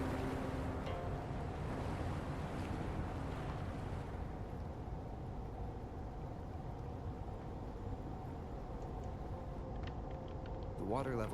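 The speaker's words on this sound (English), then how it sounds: "The water level just dropped again." A water level drops in the video game Wuthering Waves, marked by a steady broadband rush of water and surf-like ambience that holds throughout and swells briefly near the end.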